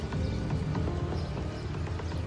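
Horse hooves clip-clopping in a steady, close rhythm over a low rumbling background, continuous and fairly loud, with no voices over it.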